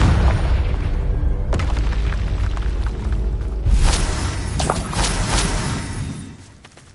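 Confringo blasting spell explosions in Hogwarts Legacy, heavy booming blasts with crackling bursts and rumbling debris, loud and close, tailing off into a fading rumble at the end.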